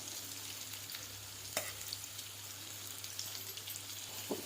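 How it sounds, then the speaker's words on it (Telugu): Onions frying in a little oil in a pan give a soft, steady sizzle with a few faint crackles and stirring clicks, quiet and close, without talking. "ఇలా పెనం పెట్టుకొని అందులో కాస్త ఆయిల్ పోసుకొని ఇలా ఆనియన్ వేసుకోవాలి"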